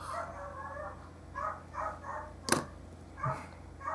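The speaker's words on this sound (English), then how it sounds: "What is wrong with that dog?" A dog barks a few times at a distance, short yips spread over a few seconds above a low steady hum indoors.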